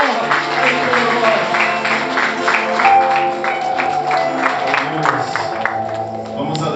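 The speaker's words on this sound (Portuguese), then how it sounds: "Aleluia, aplauda o Senhor Jesus" A church congregation claps during a celebration service, steady rhythmic applause blended with music and voices, loud and continuous throughout.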